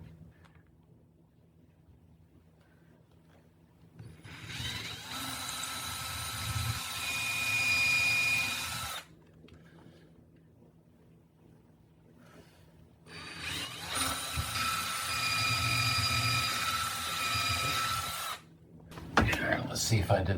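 A power drill boring holes into a wall for a TV mount bracket, two sustained high whining runs of several seconds each, separated by quieter pauses with low background noise.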